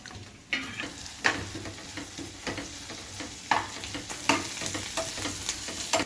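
A spoon stirs spiced buttermilk curry seasoned with chili powder and salt in a hot pan, giving repeated scraping strokes over a steady sizzle, close and clear with no talking.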